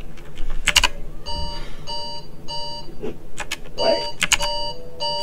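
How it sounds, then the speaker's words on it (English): A phone alarm sounds in a room, beeping in repeated short tonal bursts layered with a louder melodic chime, under background clutter, while a voice briefly speaks. "That's my phone, but that's definitely not what I thought it was."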